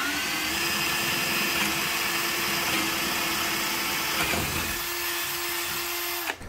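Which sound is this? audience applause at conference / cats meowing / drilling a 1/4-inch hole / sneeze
drilling a 1/4-inch hole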